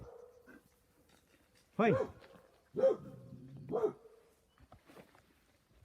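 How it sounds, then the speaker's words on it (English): Three sharp dog barks spaced about a second apart, fairly close, with a brief spoken word and quiet room noise around them. "That's just an unusual barking noise where they're saying there is something there."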